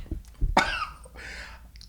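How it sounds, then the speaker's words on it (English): A man coughs after swallowing spit, giving a sharp throaty burst followed by a second rougher cough, close up and with no talking. "I'm coughing because I swallowed some spit."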